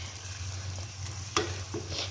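Sliced bitter gourd (karela) sizzling in an uncovered pan over low heat, a soft steady fry with a couple of sharp scrapes as it is stirred.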